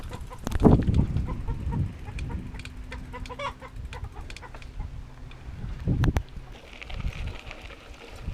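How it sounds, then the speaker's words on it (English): Free-range chickens cluck and call outdoors: low, soft clucks scattered through the scene, with a louder burst early on and another later, over a faint background hum. "Truly free-range chickens"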